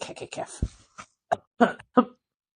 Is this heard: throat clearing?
yes